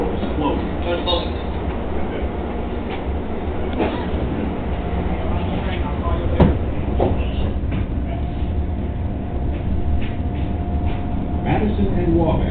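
A Chicago CTA elevated train rolls through the Loop on a snowy blizzard night, heard from inside the car as a loud, constant rumble with rhythmic wheel clatter and squeals, with voices over it.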